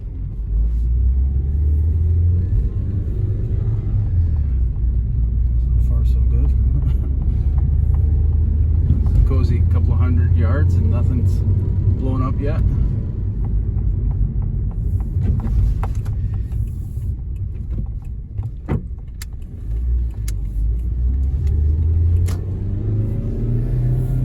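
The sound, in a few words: SX4 car driving on test drive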